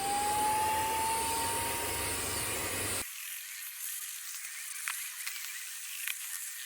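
A BLACK+DECKER Dustbuster handheld vacuum cleaning a car gives a loud whirring motor whine with a slowly rising tone for about three seconds, then cuts out, leaving quieter background rustle and a couple of faint clicks.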